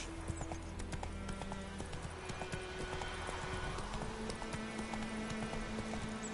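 Hooves of Roach, the horse in The Witcher 3, clip-clopping in a quick, steady galloping rhythm close by, continuous over game ambience with no talk.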